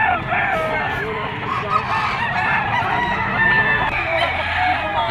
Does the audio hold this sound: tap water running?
no